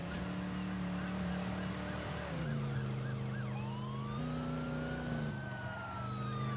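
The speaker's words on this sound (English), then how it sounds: "Oh my god, these police cars." Police car sirens wail in a Driver San Francisco chase, rising and falling sweeps layered over a steady low engine drone, loud and close with no talk.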